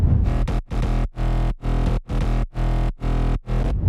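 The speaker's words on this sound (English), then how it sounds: "Now the bass, that classic rolling mid bass." A loud, rolling progressive house mid bass synth pulsing in repeated chopped notes with a steady rhythm, thick and buzzy, playing alone.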